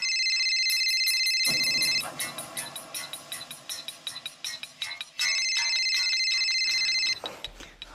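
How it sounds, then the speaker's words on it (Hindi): A mobile phone rings with a bright electronic ringtone in two loud repeated bursts, separated by a stretch of fainter clattering and movement, with no talking. "रिंग जा रही है, कुछ तो गड़बड़ है।"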